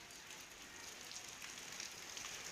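Rain falling over a rural area, a brief, faint, even hiss of drops with no voices.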